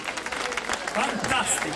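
An audience applauds a singer and voice actress on stage at a cartoon music festival, steady clapping running the whole moment while a presenter speaks over it.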